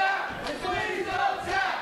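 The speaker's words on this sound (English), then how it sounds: "This crowd pleading with Kris Pyro not to submit." A pro wrestling crowd shouts and pleads loudly and steadily as a wrestler is caught in a Boston Crab hold mid-ring, with voices rising and falling in waves throughout.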